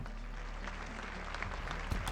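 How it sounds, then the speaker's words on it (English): Steady applause from a crowd in the video game Arknights, continuous clapping throughout with a few louder claps near the end. "Also, clapping. Yes, clapping."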